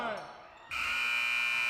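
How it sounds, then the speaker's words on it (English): A loud, steady electronic shot clock buzzer sounds in a high school basketball game gym and holds its tone to the end, entering after a moment of quieter arena noise and commentary. "Oh, that's the buzzer for Theo Jurgis."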